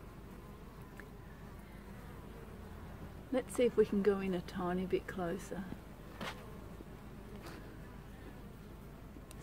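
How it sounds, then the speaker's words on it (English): Bees buzz in a steady, faint drone close by, while a person speaks briefly over the humming in the middle. "While the sun is out, lots of bees are going out looking for plants."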